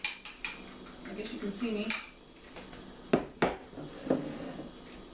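Eggs stirred into cinnamon roll dough in a bowl, heard as a few sharp clinks and scrapes of utensil against dish, spaced irregularly, close and moderately loud, with a brief spoken remark near the start.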